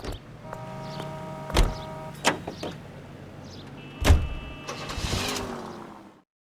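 Car driving in the video game L.A. Noire: a steady engine hum runs under mechanical clunks and door-like thumps, with a couple of sharp knocks and a brief whining tone before it cuts to silence.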